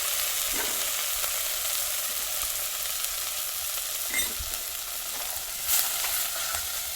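Ground coriander-cumin powder and salt frying in hot oil with green chillies for a potato kadhi, a steady close sizzle with faint stirring clinks and scrapes throughout.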